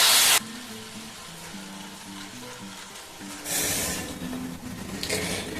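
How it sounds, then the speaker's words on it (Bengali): Ground tamarind paste heating in a pan makes a soft, low sizzle with a few stirring clinks and louder bursts near the start and end. "আমি এখন যে তেঁতুল যে বেটে রেখেছি মিক্সিতে, ওটা এখন এখানে একটু গরম করে ছেঁকে নেবো।"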